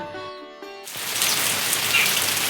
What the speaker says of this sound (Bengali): সকাল থেকে কিভাবে বৃষ্টি হচ্ছে দেখো